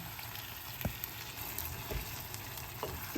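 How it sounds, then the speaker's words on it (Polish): Soft steady sizzling from a pan of pumpkin for risotto, with a few faint splashes and clinks as broth is ladled in. "I teraz taką chochelką wywaru podlewamy naszą dynię."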